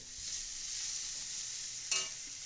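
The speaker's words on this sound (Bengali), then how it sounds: "এক চামচ ঘি দেওয়া হলো দিয়ে একটু নেড়ে চেড়ে" Quiet, continuous sizzle of a spoonful of ghee being stirred in a pan while Bengali muror dal cooks, with a single brief scrape of the spoon standing out near the end.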